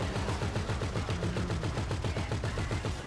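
Sustained automatic gunfire in Grand Theft Auto Online during a vehicle chase, a fast, even burst of loud shots that keeps going without a break.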